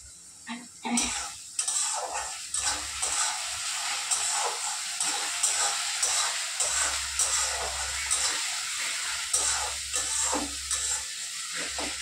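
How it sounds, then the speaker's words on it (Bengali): Onions frying in hot oil in a home kitchen while cooking a mustard-oil fish curry, a loud steady sizzle and hiss with intermittent stirring scrapes against the pan. "পেঁয়াজটা ভাজা হোক"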